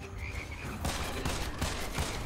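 Rapid bursts of gunfire from the first-person shooter Immortal Redneck, a string of sharp repeated shots thudding at a steady rhythm after a brief quieter stretch, loud and close over game background noise.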